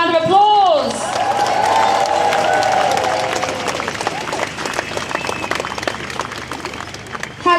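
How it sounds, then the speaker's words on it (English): A crowd at an outdoor clean water protest march in London applauds and cheers after a shout, loud at first and then thinning into scattered claps. "Please give him a warm round of applause."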